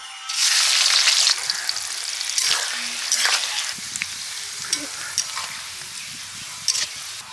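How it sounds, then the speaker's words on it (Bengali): Chopped onions drop into hot white oil with a loud burst of sizzling that settles into a softer crackle, broken by occasional stirring scrapes and clinks. "তেল গরম হয়ে গেছে পেঁয়াজ কুচি দিয়ে দিচ্ছি"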